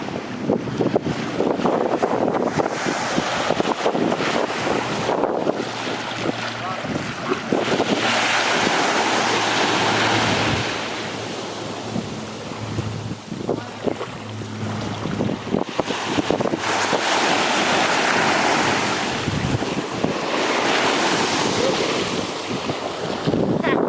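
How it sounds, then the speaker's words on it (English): Atlantic Ocean waves wash onto a beach under strong gusting wind buffeting the microphone, a loud continuous roar with swelling surges of surf. "The Atlantic Ocean."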